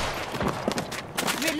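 In the video game Apex Legends, a short burst of rapid gunfire cracks sound under in-game voice chatter, all packed into under two seconds.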